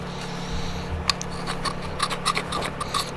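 Hardened chunks are scraped off a surface in a series of short, close, gritty scrapes and clicks, irregular in rhythm, over a low steady background hum.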